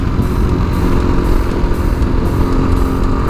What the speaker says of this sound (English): now I'm out on the road again, tacking on miles to the TBR7.